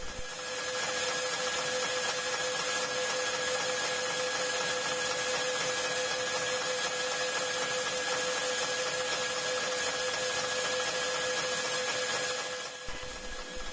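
A metal lathe making turning passes on a workpiece, a steady loud machine hum with a constant whine and broadband cutting noise throughout, dropping off briefly near the end, with no talk.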